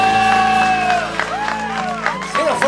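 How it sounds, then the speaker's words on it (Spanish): Cheering and shouts from a crowd at a karaoke show, a short loud burst of whoops and voices over a music bed that fades slightly, then swells again at the end. "Un fuerte el aplauso."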